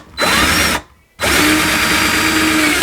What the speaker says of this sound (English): we're gonna screw that into the wall